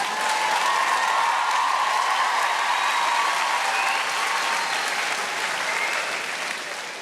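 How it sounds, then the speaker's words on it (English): Loud, sustained applause from women in a stand-up comedy audience, steady throughout and easing slightly toward the end. "All those women clapping, they meant yours."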